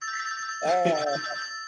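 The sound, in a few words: telephone ringing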